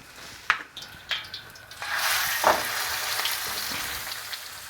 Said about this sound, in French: Et on va démarrer la cuisson de nos filets. On va mettre un petit peu d'huile.